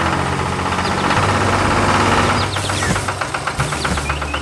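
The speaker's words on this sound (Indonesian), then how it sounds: "Traktor hijau berjalan di tengah ladang yang hijau" A tractor engine chugs loudly and steadily, its low rumble knocking in a fast rhythm up close.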